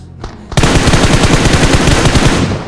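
Rapid automatic gunfire in PUBG Mobile: after a brief lead-in, a loud sustained burst of evenly spaced shots rattles for about two seconds, close and dominant with no talking.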